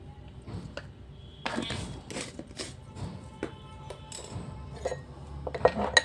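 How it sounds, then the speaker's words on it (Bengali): A spoon scrapes and clinks against a bowl while gram flour (besan) paste is stirred, giving irregular taps and knocks with quiet gaps between them. "বেসন দিয়ে এইভাবে নাড়িয়ে নিলাম।"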